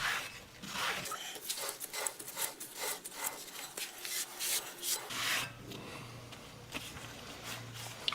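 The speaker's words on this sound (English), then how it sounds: "I'm gonna make sure the rotor's nice and clean." A rag rubs grease and handprints off a bicycle disc brake rotor, producing close, rhythmic swishing strokes in quick repeated bursts, fairly quiet and alone.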